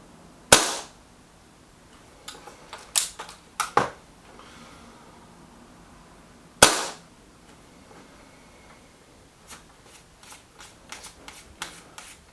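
BSA Defiant air rifle shots fired at a paper target, several sharp cracks spaced irregularly with quieter clicks and handling noises between, no talking.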